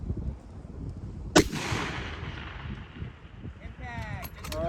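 One sharp, loud precision rifle shot fired at a 987-yard target on a long-range course, followed by a long rolling echo that fades over a couple of seconds, with a short voice near the end.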